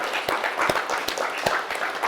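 A handful of people clap in scattered, uneven strokes at an indoor company all-team meeting, the claps crisp and fairly close with no talking over them.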